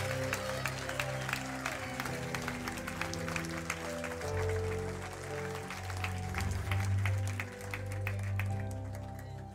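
Congregation at a church baptism service applauding and cheering over steady organ or keyboard music, the clapping dense and sustained throughout.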